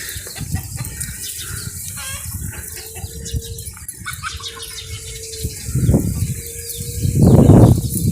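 Backyard chickens cluck and squawk close by, hens with bare backs among many roosters, with bursts of wing flapping and a louder flurry near the end; no talking.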